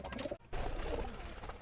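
Pet pigeons coo softly at home, a steady low warble running through the whole moment with a brief dip partway, close and fairly quiet with no talking.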